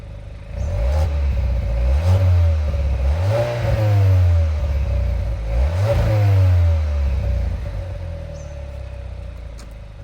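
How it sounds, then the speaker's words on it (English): A Haval H6 GT in normal mode, engine idling then revving in three smooth rising-and-falling swells, a low mid-pitched hum up close with a faint whir, settling back toward idle at the end. "That is how the car sounds when it's on normal mode."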